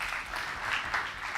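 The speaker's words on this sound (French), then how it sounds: "Est-ce qu'on peut les applaudir," An audience at a Guinean youth debate semi-final claps steadily, a dense, even patter of many hands filling the short stretch.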